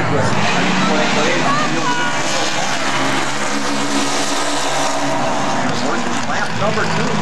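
Baby Grand race cars at South Sound Speedway roaring around the track in a dense, loud, continuous engine wail with passing swells, while an announcer talks over it.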